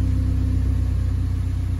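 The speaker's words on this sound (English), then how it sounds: "So I'm gonna turn on my car so you guys can kind of see." A car engine idles with a steady low rumble and a constant drone, close and continuous, with no other sounds.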